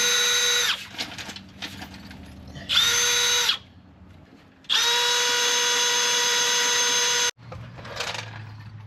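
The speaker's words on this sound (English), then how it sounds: "we're going to drill this hole and that hole. There shouldn't be anything behind it. They're 3/8 inch holes." A power drill bores 3/8 inch holes through the body of a Mercedes Sprinter van, whining loudly in three separate bursts, the last and longest running several seconds, with quiet pauses between.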